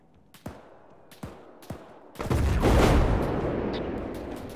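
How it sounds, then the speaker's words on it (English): Incoming mortar fire in Arma: several sharp, distant thumps spaced out, then a heavy, close blast that rolls into a long, loud rumble slowly fading. "Mortars inbound, mortars inbound."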